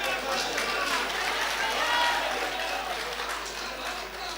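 Audience at a mushaira poetry gathering in Itwa applauds steadily, a dense, sustained wash of clapping from a large crowd lasting throughout.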